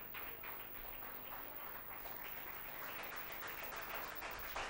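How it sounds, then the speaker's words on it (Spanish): A church congregation breaks into applause, a steady wash of many hands clapping at moderate distance that continues evenly for several seconds. "fuertes aplausos para el Señor"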